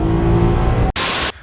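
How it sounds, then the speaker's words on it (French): Maserati GranTurismo with a 405-horsepower 4-litre Ferrari V8, a loud steady engine drone with a deep rumble, cut by a brief gap and then a burst of harsh, broadband roar before it suddenly drops away. "une Maserati Gran Turismo moteur Ferrari 405 chevaux"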